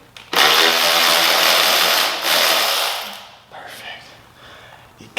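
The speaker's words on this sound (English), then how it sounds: "Gotta love power tools." Power tool working on a Honda CRF70 drum brake assembly, a loud, close, high whirring buzz that runs steadily for about three seconds, then winds down and stops, followed by faint clicks.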